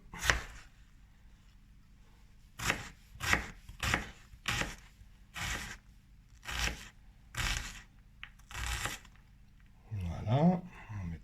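A big kitchen knife chops garlic on a board in a slow series of about nine separate crisp thwacks, close and fairly quiet, with a brief scrape at the end and a person speaking.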